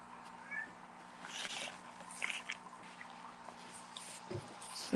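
A house cat meows a few times indoors, soft and fairly close, over a low steady electrical hum in a quiet room.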